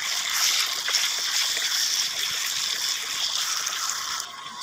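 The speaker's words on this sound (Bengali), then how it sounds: "এখন আমি ভেজে রাখা পেঁপে এবং আলুগুলো কষানো মশলার মধ্যে ঢেলে দিব" Fried papaya and potato tumble into a hot, oily cooked spice paste with a loud, continuous sizzle and crackle up close, easing slightly at the very end.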